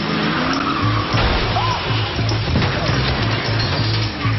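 Car tires squealing loudly and continuously as the car reverses, with engine noise underneath, sustained over several seconds.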